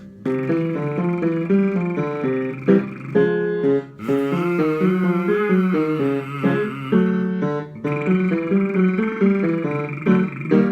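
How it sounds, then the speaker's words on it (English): Steady lip-buzzing tones from a bass singer stepping up and down in a sung pattern, loud and close, with brief pauses between phrases. "So I'll alternate between lip buzzing and doing a V sound"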